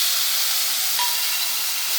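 Turkey berries and tomato sautéing in a pan with curry leaves, a steady broad sizzling hiss that stays even and continuous throughout at close range, with no voices.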